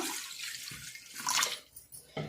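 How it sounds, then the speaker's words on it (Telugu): Water from a glass poured into an iron pan on a stove, a broad splashing rush with sizzling hiss, stopping and restarting in short bursts, close and fairly loud. "ఒక గ్లాస్ నీళ్ళు పోసుకున్నాము చూడండి"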